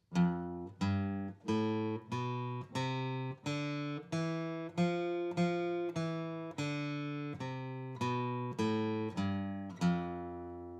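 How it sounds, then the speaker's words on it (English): A guitar plays an F Lydian scale note by note at a steady, moderate pace, each plucked tone ringing clearly with no voices present. "That's what the F Lydian scale is."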